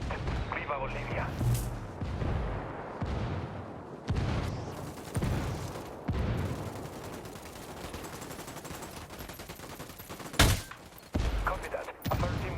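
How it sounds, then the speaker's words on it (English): Rebel mortar fire called in during a Ghost Recon Wildlands game: repeated heavy booming blasts and gunfire across the stretch, with one sharp loud impact near the end, voices heard among the explosions. "I called the rebels for mortar fire."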